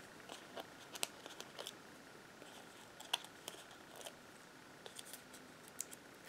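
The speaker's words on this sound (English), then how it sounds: "So I'm gonna go ahead and peel everything." Adhesive backing peeled off paper card-making pieces, heard as faint, intermittent crinkles and soft tearing snaps scattered through a quiet room.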